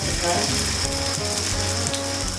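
Oil hisses and sizzles steadily in a pan of frying corn paniyaram, a close, continuous crackle with a low tonal hum running underneath.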